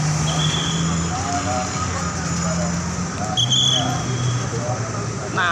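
Busy morning road traffic in Bandung near Gedung Sate, with car and bus engines rumbling steadily and a passing vehicle swelling midway, a continuous close roar over the whole stretch.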